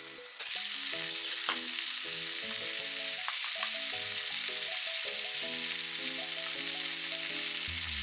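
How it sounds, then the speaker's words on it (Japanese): Tsukune chicken meatballs fry in a single pan after cooking sake is splashed in, giving a bright, dense, steady sizzle at close range over soft background music. "つくねをひっくり返したら、 料理酒を少し入れて蓋をしました。"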